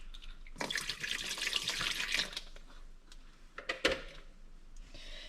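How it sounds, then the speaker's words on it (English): Tap water runs briefly into a bowl as it is refilled to rinse homemade butter, a close splashing rush followed by drips, clinks and a short second splash. "I'm going to fill this up again with more water."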